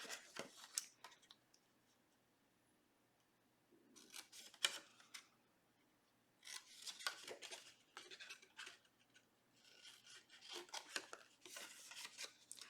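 Scissors snip through paper cards in quick bursts of crisp cutting and rustling, separated by short quiet pauses, close and fairly soft.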